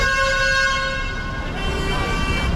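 Bus horn on a busy night street in Kuala Lumpur, a sustained, steady tonal blare lasting a couple of seconds over traffic hum.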